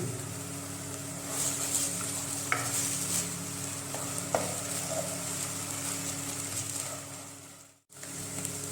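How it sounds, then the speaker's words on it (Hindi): Steady sizzling of ginger-garlic paste frying in a hot pan, with occasional stirring clinks, close and continuous, ending with a brief scrape. "अभी हम इसमें ऐड करेंगे अदरक और लहसुन का पेस्ट 2 टेबल स्पून और अच्छी तरह फ्राई कर लेंगे।"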